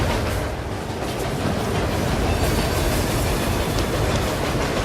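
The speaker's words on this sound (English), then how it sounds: "there's a fucking train in the way" Train passing in the video game Murdered: Soul Suspect, a loud, continuous rumble with steady wheel clatter that fills the whole stretch without a break.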